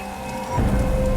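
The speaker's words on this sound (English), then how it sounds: "The rain poured relentlessly" Heavy rain pours steadily in the Maasai Mara wilderness, a dense, loud wash of falling water that swells sharply about halfway through and then stays full and constant, with no voices present.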